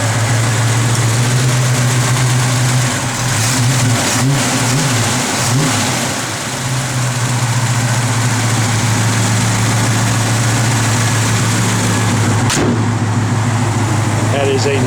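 A 1970 Chevrolet Monte Carlo's engine idles steadily and loud and close, with a low even drone throughout and a couple of brief throttle blips early on.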